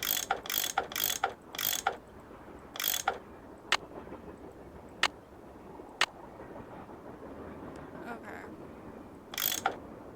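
A ratchet tool unscrewing bolts on a train in the Nancy Drew game Last Train to Blue Moon Canyon: bursts of quick metallic ratcheting clicks, close and crisp, separated by single sharp ticks and pauses over a low, quiet background.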